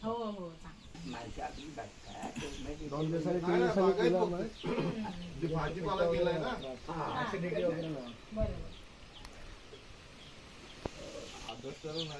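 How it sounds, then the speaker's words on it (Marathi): About a hundred hens cluck and squawk in the background while people talk loudly over them for most of the stretch. "कोंबड्या किती आहेत रे आता"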